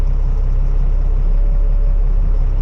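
A truck in first gear engine braking down a steep downhill grade, a loud steady low rumble of the engine holding back the vehicle, continuous and close with no voices.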